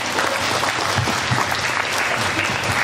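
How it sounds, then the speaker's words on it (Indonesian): Steady applause from a school audience at a religious youth event at a pharmacy vocational school in Soreang fills the whole stretch, even and continuous with no voices standing out. "Tepuk tangan"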